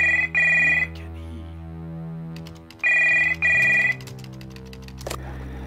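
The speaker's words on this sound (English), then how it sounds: "Behind the doors, the phone starts to ring" An old-style telephone bell rings in the game Stories Untold, two loud double-burst rings separated by a pause, set over a low droning ambient hum.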